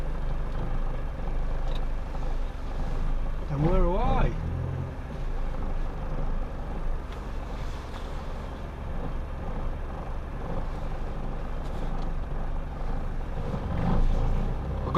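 A Morris Minor car's engine ticking over slowly while still cold: a steady, low, even rumble runs throughout, with a brief warbling whine partway through.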